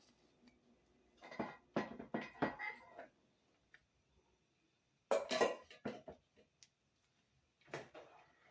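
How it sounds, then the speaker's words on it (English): A spoon scrapes and clatters against a pot while macaroni noodles are stirred, in short bursts of metallic clinks close by, separated by quiet pauses. "So we're going to just stir it and let our macaroni come to a boil."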